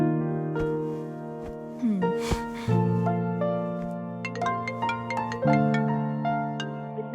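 A phone call rings in a Kannada film scene as a melodic electronic ringtone, with sustained tones and chiming notes repeating steadily at moderate volume for several seconds, with no voices.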